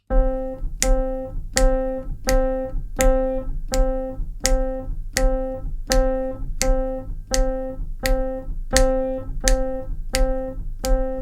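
A steady run of identical, evenly spaced pitched clicks repeats at a moderate tempo, about sixteen beats in a row, with nothing else sounding.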